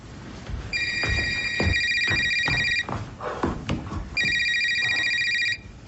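A telephone rings in two long electronic trill bursts, a bright steady tone that cuts out briefly between them, heard up close over a busy room with footsteps and background clatter.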